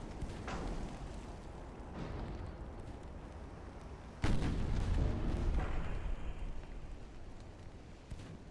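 Naval guns firing in the warship game Ultimate Admiral: Dreadnoughts, a run of deep booming salvos, with a louder, heavier blast about midway followed by rumbling, alone with no talk.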